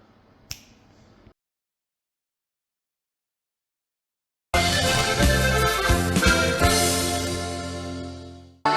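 One sharp finger snap cracks out close and alone over quiet room hiss at a wedding party. Silence follows, then loud band music bursts in.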